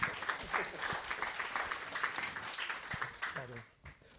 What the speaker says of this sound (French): Déjà, applaudissez Ronan Toulouat